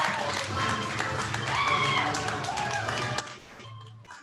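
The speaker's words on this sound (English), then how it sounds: "can we give them a big British-American round of applause?" An audience at an improv comedy show gives a round of applause: dense crowd clapping mixed with cheering voices, swelling and then fading out near the end.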